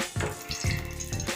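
Cooking oil pours into a pan for pudla in a brief, close, liquid splash and trickle.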